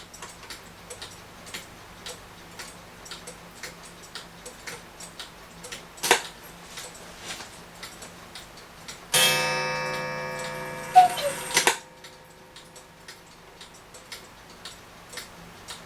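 1920 Black Forest cuckoo clock under restoration, steady soft ticking at a regular beat throughout, interrupted midway by a few seconds of whirring, clattering mechanism noise before the quiet ticking resumes.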